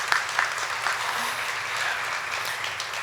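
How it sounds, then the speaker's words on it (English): Conference audience applauding the Arts Council team, a sustained round of clapping in a hall with a few louder individual claps standing out near the start and end. "So let's give them a round of applause"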